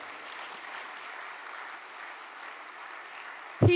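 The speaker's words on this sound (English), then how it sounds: "Could we give the minister another round of applause?" Audience applause for a government minister at an investment business conference in Jamaica, a steady wash of moderate clapping that holds evenly throughout, ending with a brief louder burst.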